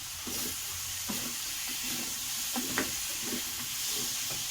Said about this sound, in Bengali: দেখো আমি ধনে পাতা কিছু এর সঙ্গে দিয়ে একটু কষিয়ে নেব।